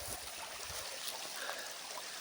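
A forest stream flows with a steady broadband rush and trickle, close and continuous, with no voices over it.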